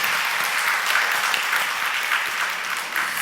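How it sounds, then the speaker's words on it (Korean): A church congregation claps in thanks and encouragement during a Sunday praise service, a dense, steady wash of applause that holds at an even level throughout with no voices over it. "감사와 격려의 박수"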